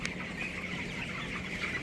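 Broiler chickens about twenty days old give soft, low clucks and murmurs in a shed at night. The sound is a steady, faint flock chatter with no voices.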